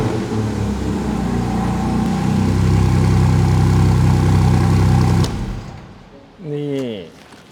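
Close, loud Can-Am Spyder RS engine idling with a steady low rumble for about five seconds, then it cuts off, and a short rising mechanical whine follows afterwards.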